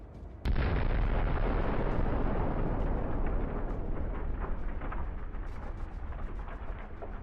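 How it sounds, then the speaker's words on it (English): A kamikaze drone strikes a tank in a powerful explosion that blows off the turret: a sudden, very loud blast followed by a long rumbling, crackling roar that slowly fades, with no voices. "The explosion was so powerful that the tank's turret was blown off."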